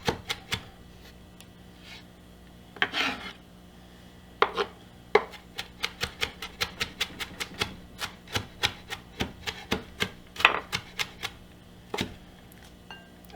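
A knife chops ingredients on a board for a fresh tuna salad: a long run of crisp, fairly regular strikes, close and clear, with brief pauses between bursts and no talking.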